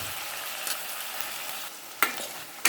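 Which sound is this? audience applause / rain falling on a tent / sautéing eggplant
sautéing eggplant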